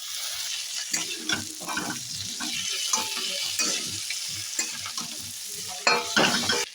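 Potatoes are stirred and sautéed with spices in a pan for a vegetarian potato curry, with a close, moderate sizzle under frequent scraping and clinking stirring strokes and no talking.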